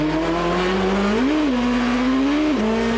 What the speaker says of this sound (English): Listen to these guys, very gentle on the brakes and very slow on the downshift